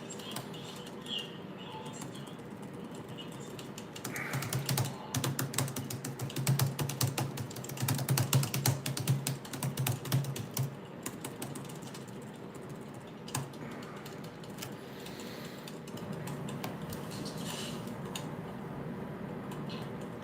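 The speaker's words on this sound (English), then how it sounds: "I'm typing to him right now." Rapid clicking of keys on a computer keyboard, close by, in uneven bursts that grow busier in the middle, with no talking.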